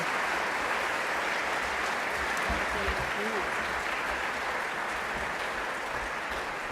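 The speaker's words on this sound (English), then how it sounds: "let's give them all one more round of applause" Sustained applause from a high school all-sports banquet audience, a dense, even wash of clapping that fills the room throughout.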